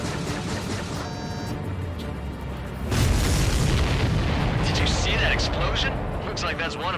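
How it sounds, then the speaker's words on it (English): A supply ship blows up in the Ace Combat 7 combat flight game, a heavy boom swelling midway and rumbling on over the continuous roar of jet engines, with a voice heard over the action. "Did you see that explosion?"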